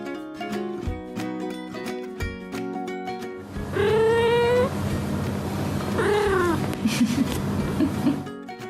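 A kitten meows several times, with rising and falling cries over cheerful background music, fairly close and clear.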